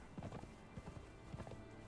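Horse hooves galloping in Conan Exiles on the Isle of Siptah, a quick rhythmic clip-clop of several hoofbeats in short bursts, faint and fairly close, with no talk over it.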